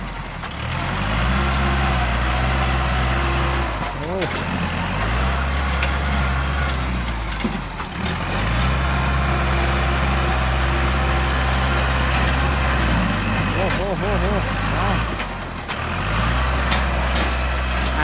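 A heavy Kubota L5018 tractor engine runs steadily and loudly while pushing soil, its low rumble rising and dipping a few times as it revs, with no talking.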